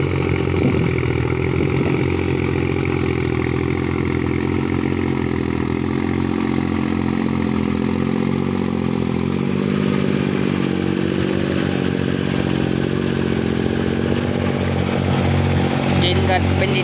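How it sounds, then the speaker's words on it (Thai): A steady, loud diesel tractor engine plowing a wet rice field chugs and rumbles continuously, with clattering mechanical noise and a slight shift in tone partway through. "การไถนาครับ รถไถส้มครับ"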